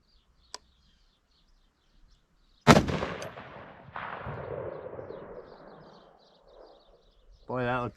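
A single 6.5 caliber rifle shot fires outdoors during deer season: one sharp, loud crack followed by a long rolling echo that fades slowly, with faint bird chirps around it and brief voices near the end.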